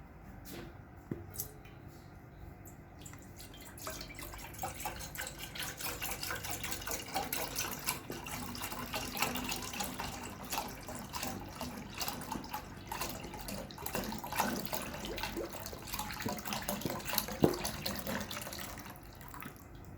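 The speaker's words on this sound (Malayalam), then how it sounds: "നല്ലതായി ക്ലീൻ ചെയ്ത പാത്രത്തിലേക്ക് നമ്മൾ 1 ലിറ്റർ മിൽക്ക് ഒഴിക്കുക." One litre of milk poured into a cleaned vessel to make homemade paneer, a steady liquid stream splashing and gurgling at moderate level for about twenty seconds, with a few small knocks against the pot.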